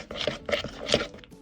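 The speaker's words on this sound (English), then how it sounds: "In a bowl, I need a 1/4 cup of peanut butter, 2 tablespoons of honey, and some salt, and mix it together." Spoon scraping and stirring peanut butter, honey and salt together in a bowl, three or four soft rhythmic clinks and scrapes, close and fairly quiet, no talk.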